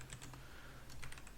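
Computer keyboard typing while setting up a Neovim configuration: a quick run of light key clicks over a steady low hum, no voices.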